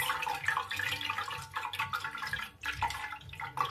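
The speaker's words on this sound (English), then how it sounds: "We pour the next batch." Hibiscus sobolo drink poured and strained in a kitchen, a steady trickling liquid stream with drips and splashes running throughout, close and moderately loud with no talking.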